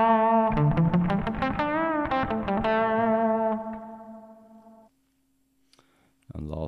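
Guitar notes through a Zoom G1 effects unit's arena reverb ring out with a huge, long reverb tail that fades slowly into near silence before a new strum starts at the end.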